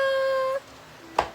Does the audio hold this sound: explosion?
no